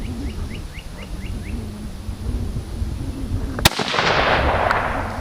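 A single sharp rifle crack rings out over quiet outdoor ambience near grazing cows with faint bird calls, followed by a broad rolling echo that slowly fades.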